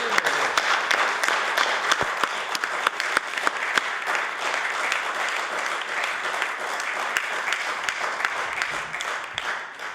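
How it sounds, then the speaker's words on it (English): In a legislative House of Assembly chamber, members and gallery visitors give steady, dense applause with sharp individual claps standing out. The applause holds for the full ten seconds with no talking. "I asked them to rise and receive the warm applause of this House"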